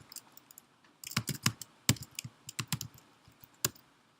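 Typing on a computer keyboard at a terminal prompt: a burst of crisp, close key clicks in uneven runs after a brief quiet start, clear and alone with no voice.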